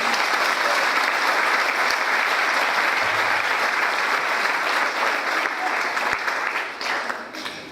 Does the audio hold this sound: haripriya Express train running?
no